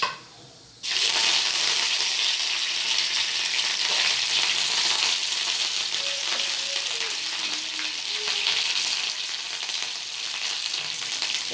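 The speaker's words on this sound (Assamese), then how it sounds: "তেল গৰম হ'লে মই তাতে দিম এয়া ক'লা সৰিয়হ নামমাত্ৰ কেইটামান ফুটিবলৈ দিব" Black mustard seeds and curry leaves hit hot oil for a bhindi curry and burst into a loud, crackling sizzle that runs steadily after a brief quiet start, with no talking.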